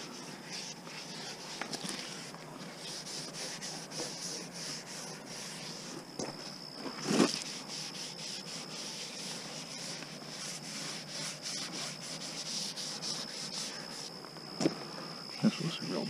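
A cloth or applicator rubbing trim restorer onto plastic car trim, continuous soft scrubbing strokes close by with occasional sharper knocks, beneath some brief speech.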